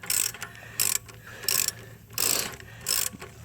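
Ratchet clicking in five quick bursts as a transmission mount bolt on a 2001-2006 Mazda Tribute is loosened, the pawl chattering close up with brief pauses between strokes.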